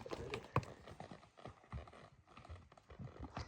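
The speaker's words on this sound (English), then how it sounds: "2 mules and a horse." Two mules and a horse walking on a trail, with a soft, irregular clip-clop of hooves close by and faint shuffling between the steps.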